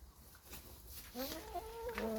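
Chickens cluck softly nearby in short, rising-and-falling calls over a faint outdoor hiss.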